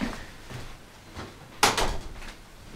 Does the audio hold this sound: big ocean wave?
no